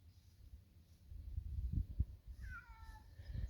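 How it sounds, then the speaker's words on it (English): A cat gives a short, faint meow in a quiet room, with a few soft thumps and low rustling around it. "Kitty Blaze is over there. He's calling towards me for me."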